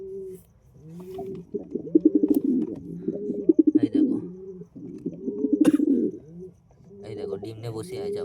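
Pigeons in a coop coo repeatedly, with rolling, throaty calls rising and falling in several close bursts, loud and near, along with a little background movement.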